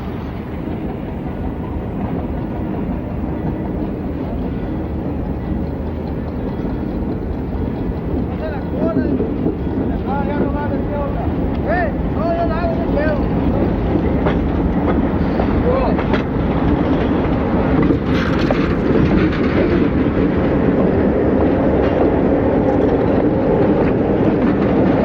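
BC Rail locomotives work Mexico's Pacifico Railroad, a continuous low diesel rumble with rolling rail noise and some wind buffeting the microphone throughout, fairly steady and moderately loud.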